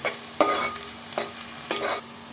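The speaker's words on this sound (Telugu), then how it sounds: "బ్రౌన్ కలర్లో రావాలి వచ్చేంత వరకు వేయించుకోవాలి ఒక బగారాకును ఇలా వేసాను ఇందులో" A bay leaf fries in hot oil in a pan while a chicken curry is being made. A soft, even sizzle is broken by four distinct stirring scrapes. No voices.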